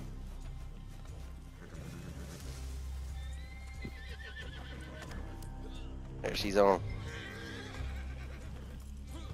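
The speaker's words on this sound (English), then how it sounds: "Let's get on a horse." A horse in a video game lets out a loud whinny near the end, with clip-clop hooves and game sounds underneath while players talk throughout.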